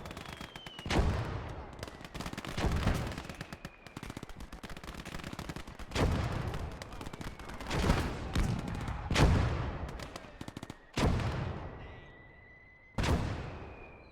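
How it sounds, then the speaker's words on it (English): Machine gun fire in a WWII real-time strategy game, heard as repeated short bursts of rattling shots separated by brief gaps, with sharper booming impacts punctuating the battle noise. "No, it's a little machine gun"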